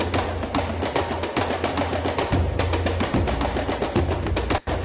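A tombak drum from the Hans Zimmer Percussion sample library plays a fast, busy pattern of sharp cracking slaps over deep booming strokes, close and loud, with a brief dropout just before the end.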